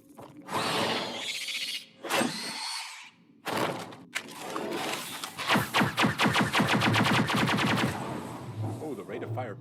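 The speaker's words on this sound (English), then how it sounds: "the rate of fire picks up the longer you hold the trigger." Rapid automatic weapon fire in Mass Effect Legendary Edition, a long rattling burst of many close shots that speeds up as it goes, following earlier scattered blasts and bits of talk.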